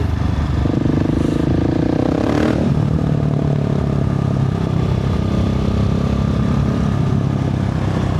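A KTM supermoto bike engine runs loud and steady throughout, with a brief rev surge and some clattering near the start.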